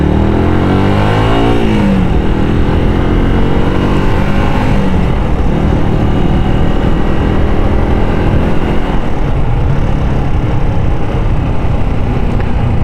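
Yamaha YZF R125 first-generation motorcycle engine accelerating on a road, a rising mid-pitched drone that climbs through the revs then settles into a steady loud hum for several seconds.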